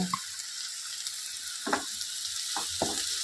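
Continuous high sizzle of food frying in a pan for spinach dal, broken by a few soft stirring scrapes and clunks.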